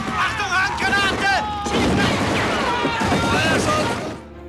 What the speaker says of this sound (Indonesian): Ia melepaskan tembakan ke arah prajurit Uni Soviet. Sampai akhirnya baku tembak pun terjadi.